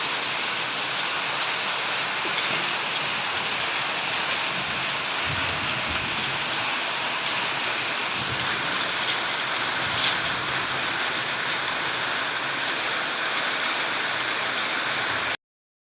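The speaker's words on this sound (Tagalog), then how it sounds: "naririnig nyo yung patak ng ulan sa bubungan" Steady rain patters on a roof, a dense continuous hiss of drops with a few heavier taps, close and fairly loud throughout.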